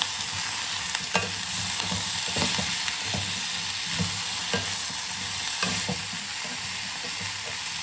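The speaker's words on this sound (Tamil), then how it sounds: "போட்டு நல்லா மிக்ஸ் பண்ணி விட்டுக்கலாம்." Pumpkin poriyal with chili flakes being stirred in a hot pan, a steady sizzle broken by repeated scraping spatula strokes in an irregular rhythm, close and loud, with no talk.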